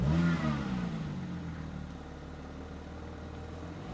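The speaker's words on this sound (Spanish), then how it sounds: "el segundo sonido que quiero que escuchéis es, por supuesto, el sonido del motor al arrancar" A Porsche 911 (992) GT3 Touring engine catches and blips up in a sharp opening rev, then settles into a steady, rumbling idle close by for the remaining few seconds.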